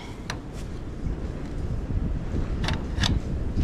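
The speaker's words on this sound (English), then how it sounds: "North wind. Always a fun one. Always brings that nasty weather." North wind gusting outdoors on a goat farm, a steady low rumbling roar buffeting the microphone, with a few faint higher rustles, no talking.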